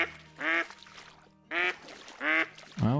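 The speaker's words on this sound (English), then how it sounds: "Well, we got ducks coming in at least." Ducks quack repeatedly in the Call of the Wild hunting game, four loud bursts of calls spaced about a second apart over a low ambient background, with no talk.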